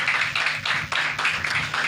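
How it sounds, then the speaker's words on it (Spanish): Church congregation applauding at a night campaign service, dense sustained clapping from many hands filling the room in an even wash, moderately loud with no break. "Alguien le tiene que dar un aplauso al Señor en esta noche."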